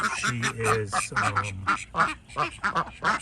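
Rapid, repeated quacks from an older female duck close by, a run of loud nasal calls with short gaps between them.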